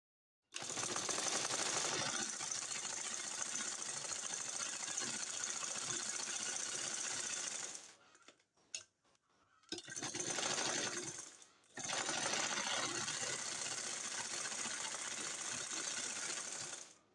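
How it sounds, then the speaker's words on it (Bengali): Sewing machine stitching a Quran cover, a loud close continuous whirring run that stops briefly around the middle, then resumes in two more sustained stretches. "এখন আমি এই মাথা এই মাথা এভাবে সেলাই করে নিব উল্টা করে সেলাই করে নিতে হবে"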